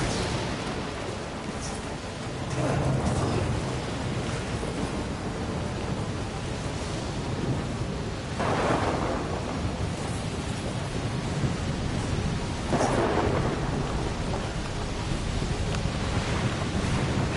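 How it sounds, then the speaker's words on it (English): Thunderstorm in the video game Death Stranding: a constant loud roar of wind and rain with deep rumbling surges of thunder rolling in several times. "look at the size of this storm."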